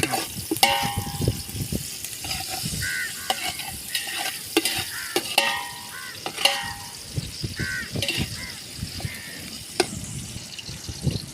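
Onions sauté in a pan while a spoon stirs and scrapes repeatedly, a steady close sizzle with clinking metal strokes, for a cooked shellfish dish, with crows cawing faintly outdoors.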